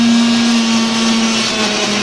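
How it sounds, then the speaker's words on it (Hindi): A 35-year-old kitchen mixer grinder whirs loudly and steadily while grinding green chutney of raw mango, green chilli and onion, giving a constant motor drone with a pitched hum and no talk. "ठंडा करेंगे तो फिर मिक्सी में पीसूंगी"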